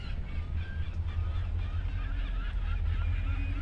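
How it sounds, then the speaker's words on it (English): Geese honk repeatedly near a pond in Montana, several overlapping calls over a steady low rumble of a nearby motor or traffic. "Lots of scary little geesies"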